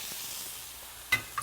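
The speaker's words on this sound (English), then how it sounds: "Listen to that sizzle." Protein sears in a smoking-hot skillet, giving a constant broad sizzle and hiss, with a couple of brief clinks and louder spatters near the end and no voices.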